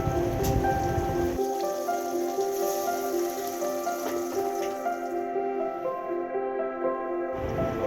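Singi catfish coated with salt and turmeric frying in hot oil, a steady, fairly loud crackling sizzle with faint sustained musical tones over it.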